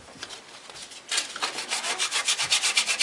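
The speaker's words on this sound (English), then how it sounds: "You want to use a hacksaw like this." A hacksaw cutting metal for a cleaver-making project, starting with light scratching and then settling into loud, close, rhythmic back-and-forth strokes, about two per second, with no talking.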